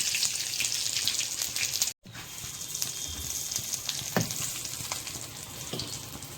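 Whole spices, bay leaf and shahi jeera, hit hot oil in a pan for a paneer dish, giving a steady bright sizzle and crackle throughout, with a brief dropout near the start and a few soft stirring knocks.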